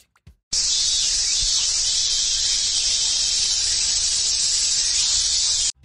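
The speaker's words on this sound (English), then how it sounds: "It's a cicada." Cicada song, a loud, high, continuous buzzing hiss that starts abruptly, holds steady for about five seconds, then cuts off, heard alone without any voices.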